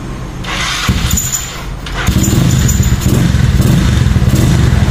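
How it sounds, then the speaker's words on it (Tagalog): A Yamaha Mio Soul 160 scooter engine, freshly reconditioned with a big valve, idles close by and then revs up to a steady, louder running note. "Testing din natin itong Mio na nirefresh ni Abo Works, Francis Philip."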